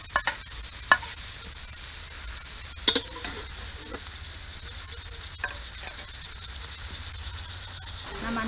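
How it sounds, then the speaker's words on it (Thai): Mushrooms sizzle steadily in hot oil in a pan as they are stir-fried, with a few sharp utensil clinks and scrapes standing out over the constant close frying hiss. "เห็ดลงไปผัดค่ะเห็ดลงผัดให้สุกแล้วก็จะได้ปรุงรส"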